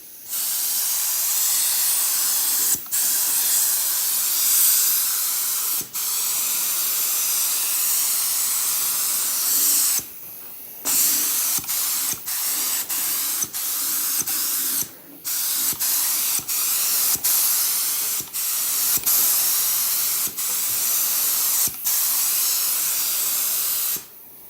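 Spray gun spraying catalyzed primer onto a 1969 Dodge Charger hood, a loud, steady close hiss broken by short gaps where the trigger is released and pressed again, with no talking.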